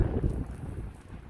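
Strong wind blowing across the top of a sand dune peak in Mongolia, a low, rumbling buffeting roar against the microphone that swells briefly and then eases slightly.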